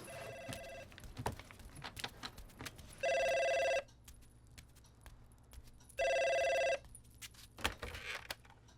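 An indoor telephone rings in two long electronic bursts a few seconds apart, loud and steady, over quiet room noise, with a short fainter tone at the start.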